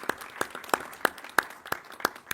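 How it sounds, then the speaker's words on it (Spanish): Sparse clapping for invited guests at a panel on the environment chapter of the USMCA trade agreement, sharp individual claps falling at a roughly regular beat with quiet between them, not a full crowd. "Un aplauso, por favor, para nuestros invitados."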